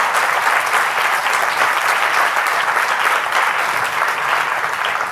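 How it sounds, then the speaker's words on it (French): Sustained audience applause at a French conference or event, a dense, steady wash of many hands clapping at even loudness throughout with no talk over it. "Je voudrais qu'on les applaudisse hyper fort."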